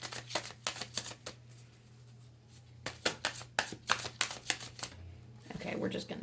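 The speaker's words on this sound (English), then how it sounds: "Messy shuffling, sorry, y'all." Oracle cards are shuffled in quick bursts of crisp riffling slaps, several rhythmic groups separated by pauses, close and clear over a low steady hum, with a voice briefly heard at the end.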